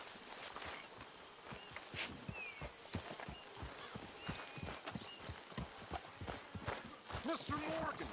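Steady walking hoofbeats of a horse in Red Dead Redemption 2 clop in a regular rhythm for several seconds, close by, with game voices talking over them and a brief whinny-like sound near the end.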